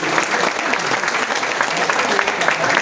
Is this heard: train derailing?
no